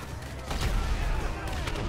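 Rapid bursts of gunfire in the video game GTA 5 during a storming of Area 51, a short, loud rattle of shots over a busy background.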